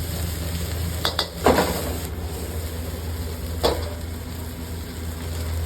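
Fried rice with spring onion is stir-fried over high heat in an iron wok, with a constant sizzle under sharp clanks and scrapes of a spatula against the metal.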